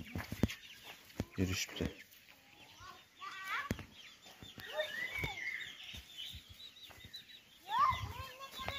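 Young rooster chicks cluck and peep in a farmyard. The soft, scattered chirps and clucks are mixed with brief rustles and a voice speaking briefly, and a louder call comes near the end.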